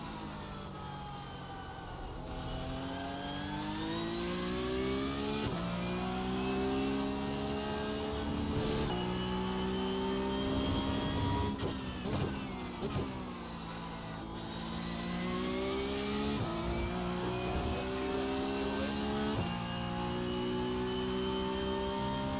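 A Porsche Cup race car engine in the iRacing sim racing game drones loudly and steadily for over twenty seconds, rising as it revs up through gears and dipping sharply on several upshifts and braking points, with no talking.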